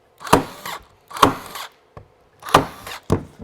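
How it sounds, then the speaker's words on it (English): A staple gun fastens fabric ribbons to a van wall panel during upholstery work, firing three or four sharp, close snaps at irregular intervals, each followed by a brief mechanical rattle. "This is a good time for us to take our staple gun and permanently fasten some of these ribbons."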